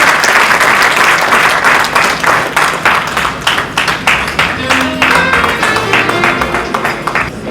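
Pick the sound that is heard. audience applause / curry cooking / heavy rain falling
audience applause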